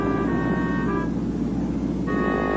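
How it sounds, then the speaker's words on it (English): Car horn honking loudly in a steady sustained blare, cutting off briefly in the middle and then resuming, with no voices. "Philip and Fillmore, the fairy twins, honked loudly at him."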